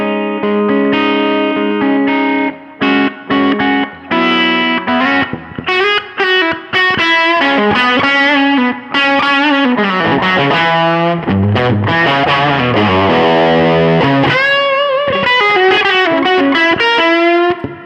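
An overdriven electric guitar through a Dumble-style amp, played with a light touch, sustained chords and single notes ringing out with a warm, slightly fuzzy tone and chorus-like shimmer.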